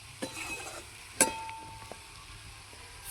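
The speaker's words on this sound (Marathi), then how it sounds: "छान तेलामध्ये आपल्याला 2 मिनिट दोडका परतून घ्यायचा आहे." Ridge gourd sautés in hot oil over a wood-fired stove while being stirred, with a soft sizzle under a few scraping stirs and one sharp clink of a utensil against the pan.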